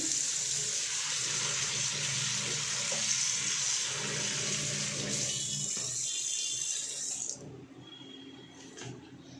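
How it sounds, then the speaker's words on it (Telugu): Toor dal is rinsed in water in a pan, with a steady close rush of running water and sloshing that softens and thins out toward the end, with no talking. "ముందుగా పప్పుని బాగా వాష్ చేసుకోవాలి"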